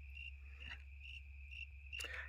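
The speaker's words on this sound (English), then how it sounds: "Hey, crickets." Crickets chirp in a steady, shrill pulsing trill, close and continuous over a low background hum, with a few soft taps and no talking.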